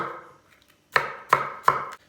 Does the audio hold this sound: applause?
no